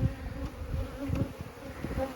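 Honey bees knocked loose during a hive release buzz steadily at close range, a continuous agitated hum with slight swells in loudness and no voices.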